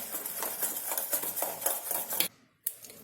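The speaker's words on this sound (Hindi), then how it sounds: "हाफ कप शुगर पाउडर और इसे कर लेंगे अच्छे से मिक्स" Powdered sugar being stirred into fruit cake batter in a bowl, with a quick rhythmic series of spoon scrapes and clinks against the bowl, close and fairly loud, stopping briefly near the end before one more stroke; no talking.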